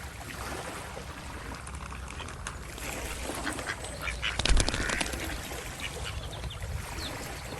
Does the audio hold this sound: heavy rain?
no